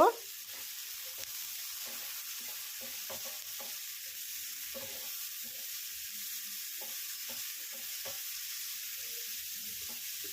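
A spiced mixture frying in a pan with salt and turmeric, stirred steadily: a constant hiss of sizzle with soft, irregular scraping strokes of a spatula throughout, close and alone.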